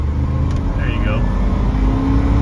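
A 1973 Ford LTD Brougham's 460 V8 engine with factory-style dual exhausts accelerating, a deep, muffled low rumble that holds steady and close throughout, with a voice faintly in the background.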